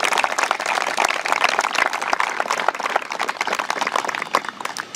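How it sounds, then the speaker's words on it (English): Audience applause at a stadium ribbon cutting ceremony for Memorial Field, a dense, steady crowd clapping that carries on loudly for the whole stretch with no voices above it. "Let's give a round of applause to them."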